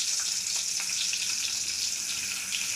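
Chopped onions frying in hot oil for a Kerala-style fish curry, giving a steady, close hiss and crackle that runs unbroken throughout with no talking.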